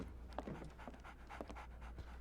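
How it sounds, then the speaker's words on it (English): A new puppy pants in quick, uneven bursts of breathy huffs, close by but faint over a low steady background hum. "There's your new puppy!"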